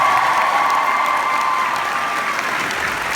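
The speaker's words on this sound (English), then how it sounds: "Big round of applause for our signers" An audience at a fan day event with actor John Barrowman in Dallas applauds loudly and continuously, a dense wash of clapping that slowly tapers off slightly toward the end.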